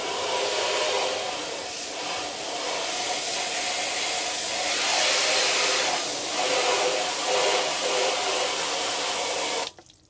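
A strong, steady hiss of spraying water rinses a car after chemical pre-treatment, loud and close, running unbroken for several seconds before cutting off abruptly.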